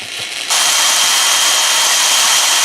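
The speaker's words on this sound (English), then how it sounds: "Drill into glass, glass shatters and breaks." A power drill drilling into glass under a steady stream of water whines steadily at close range, starting abruptly after a brief quieter moment, then grinding on at high pitch without pause.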